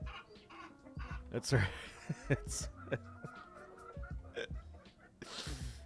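Big Cluck, a chicken boss in the video game EOA, clucks and squawks in short, irregular bursts, with people talking in the background.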